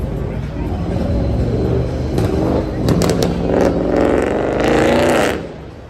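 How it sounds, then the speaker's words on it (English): A loud car engine revs and growls while creeping slowly along a New York City street, close by, its pitch rising and falling over several seconds before fading. "Car moving mad slow, probably doing 15 miles per hour. Sound like he's doing 100."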